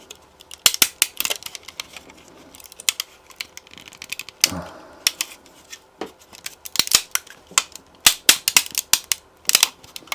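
Plastic support material snaps and cracks off a 3D print in a dense run of loud, close clicks and sharp pops, some quick bursts and some single breaks, with no voice.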